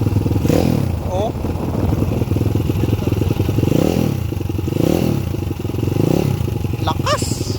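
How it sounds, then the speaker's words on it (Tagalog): A 160cc pit bike engine revs repeatedly, rising and falling in several loud surges up close, with someone speaking over the engine between pulls. "160cc Pitts bike."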